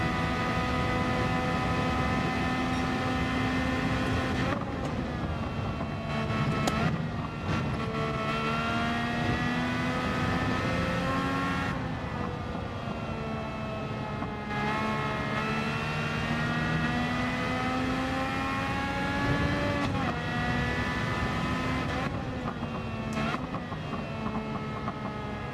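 Race car engine in Gran Turismo 7, droning steadily throughout with rising and falling pitch sweeps as the car accelerates and shifts gears, loud and continuous with no talk over it.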